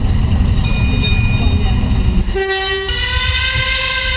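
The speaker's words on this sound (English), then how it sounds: "Train now approaching" A loud rumbling train draws near on track near Seamer, Scarborough, its horn sounding a sustained tonal blast partway through over the heavy rolling noise.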